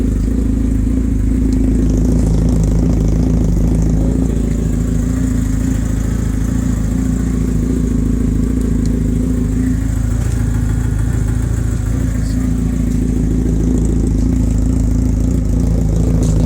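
A 1985 Honda Nighthawk CB700SC engine idles steadily, slightly low, and loudly up close, a low rumbling throb with a slight mechanical clatter that holds unchanged throughout.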